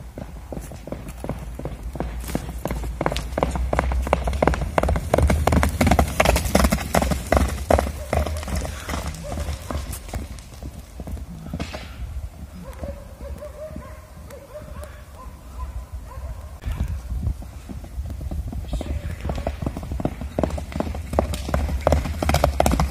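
A stallion's hooves clip-clopping in a fast, steady rhythm close by for the whole stretch, with a dog barking and brief voices mixed in.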